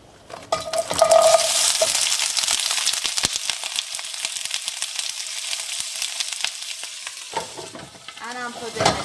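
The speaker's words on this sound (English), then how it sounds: "Warmed up 3 tablespoons of organic vegetable oil, mini wonton in it." Mini wontons fry in three tablespoons of very hot organic vegetable oil, giving a continuous bright sizzle and crackle with occasional clinks of a pan or utensil, alone without talk.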